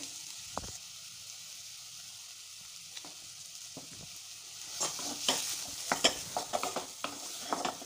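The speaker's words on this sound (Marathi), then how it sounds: "आता यात घालायची आहे खूप सारी बारीक चिरलेली कोथिंबीर, सर्व व्यवस्थित परतून घ्यायचे" Finely chopped coriander being stirred and sautéed in a pan for a chilli fritter filling, a soft steady sizzle with occasional spoon scrapes and taps that grow busier toward the end.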